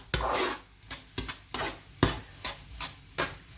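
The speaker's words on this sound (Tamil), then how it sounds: "நல்லா சீனி நல்லா உருகி அதை கிண்டுவோம்" Sugar melting for kesari is stirred in a pan with a spoon, giving repeated scraping rubs in a steady rhythm, close and moderately loud with no talk.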